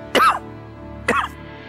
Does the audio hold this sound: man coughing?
yes